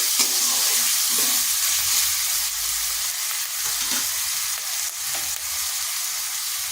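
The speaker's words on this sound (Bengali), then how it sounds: "দিয়ে দিচ্ছি লবণ কিছুটা স্লো আঁচ করে এই মশলাটা কষতে হবে" Spice paste with salt frying slowly over a low flame in a pan, a steady close sizzle broken by soft scraping and stirring sounds throughout.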